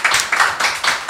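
A studio audience at a live Korean talk-concert claps in a brisk, rhythmic burst, hand claps arriving in quick repeated pulses close by with no voices over them.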